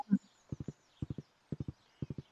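Horse hooves in the Stardew Valley farming game, heard as crisp clip-clop beats in quick groups of three, repeating steadily four times after a brief soft thump at the start, with no talk.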